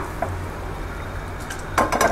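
Milk and barnyard millet kheer is stirred in a pan, a soft low bubbling hiss followed by a short burst of spoon scraping and clinking against the metal near the end.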